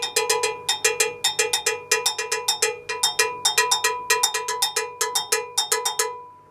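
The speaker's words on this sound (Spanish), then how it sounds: "Los cencerros que se ocupan en la música latina." Cowbells of the kind used in Latin music, struck in a quick repeating rhythmic pattern of bright metallic clanks, close and loud, with no voices.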